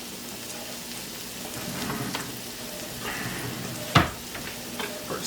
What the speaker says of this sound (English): Stir this all in.